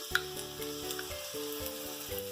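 Batter mixture sizzles on a hot tawa with a soft, continuous crackle, while a faint tonal hum runs underneath and no one speaks.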